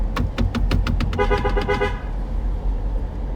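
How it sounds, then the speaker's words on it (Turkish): A car horn toots in a quick string of short, loud honks on a Los Angeles street, then falls silent, leaving low traffic rumble. "Kornaya mı basayım? Basayım."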